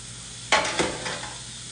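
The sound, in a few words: beef slab searing in avocado oil in Dutch oven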